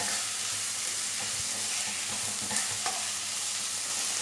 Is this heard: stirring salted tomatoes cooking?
yes